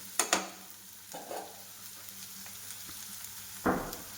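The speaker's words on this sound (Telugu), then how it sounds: "చూసారు కదా, మంచిగా ఫ్రై అయిందనమాట తోటకూర." Amaranth leaves frying in a pan, a soft steady sizzle with a few sharper clatters of stirring at the start and near the end, no talk.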